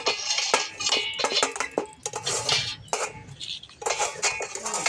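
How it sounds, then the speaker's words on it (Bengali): A spoon stirring food in a metal cooking pot, repeated scraping strokes and sharp clinks against the sides in an irregular rhythm, close and fairly loud, over a soft cooking hiss. "আবার ভালো করে নাড়াচাড়া করে নিচ্ছি"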